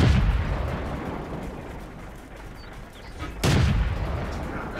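Tank cannon fire at a Panzer III/IV in the World of Tanks game, a heavy boom at the start and another sharp blast near the end over a low, steady battle rumble.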